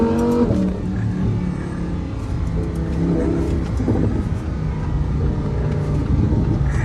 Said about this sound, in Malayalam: നമുക്ക് ഈ വണ്ടീനകത്ത് ഒരു ഡ്രൈവ് ആയിട്ട് വരാം